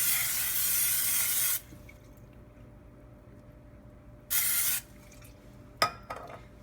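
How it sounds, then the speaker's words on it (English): Butter-flavored non-stick cooking spray hisses from an aerosol can in two bursts, a long one and then a shorter one, followed by a light clatter in the kitchen. "So we're gonna put the non-stick butter cooking spray."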